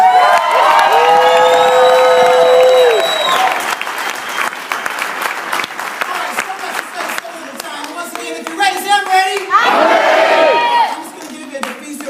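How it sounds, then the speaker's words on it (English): Large crowd at a business rally in Sacramento applauding and cheering, loud clapping under whoops and shouted voices, swelling again with a second wave of cheers before tapering off. "Give my new emerald a big round of applause."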